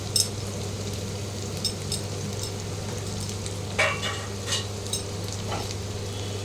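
Two large chopped onions fry in hot oil in a pan for a coriander chicken dish, a steady broadband sizzle with a low hum beneath and a few brief stirring scrapes, no talk.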